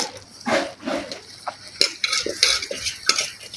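Onion and garlic go into oil in a pan and get stirred, with a utensil scraping and clinking against the metal in uneven strokes over a soft, low sizzle, close by.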